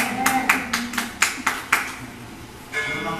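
An audience claps in a quick burst of about seven sharp, evenly spaced claps that then stop, leaving a soft background murmur.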